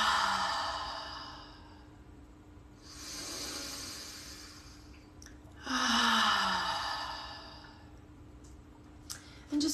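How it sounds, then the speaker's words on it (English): Slow guided breathing: two long, deep inhales each followed by an audible open-mouth exhale, close and soft, with quiet pauses between and no talking over the breaths. "Deep inhale. Open mouth, exhale."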